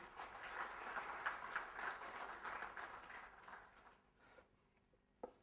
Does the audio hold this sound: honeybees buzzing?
no